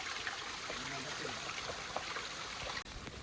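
Water trickling and splashing down from a high mountain waterfall, a steady close stream with no voices.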